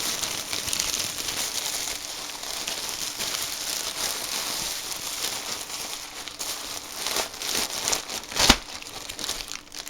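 Plastic bags are handled in a home craft room, giving a continuous close crinkling and rustling for several seconds with a louder crackling burst near the end and no talking.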